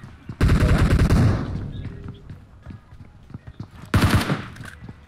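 Rapid automatic gunfire in a shooting video game comes in two loud bursts, one long and one short, with scattered softer shots and game sounds between them.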